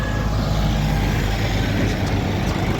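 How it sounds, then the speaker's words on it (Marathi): Steady, heavy engine rumble from several tractors rolling past one behind another in a pilgrimage procession from Pimpri to Pandharpur, a continuous low drone with no pauses. "एकामागं एक चाललेले सर्व ट्रॅक्टर"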